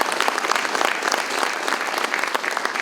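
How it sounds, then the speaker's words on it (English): Audience clapping during a city State of the City address, a brisk, close burst of many hands with individual claps standing out, steady and loud throughout. "I'll clap for that. Clap for that"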